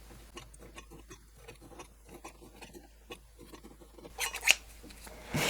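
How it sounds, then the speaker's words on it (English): Scissors snip through fabric interfacing around a circular quilt block, a close, quiet run of irregular crisp cuts that ends in a louder rustle of handled fabric. "we're just going to cut away that interfacing"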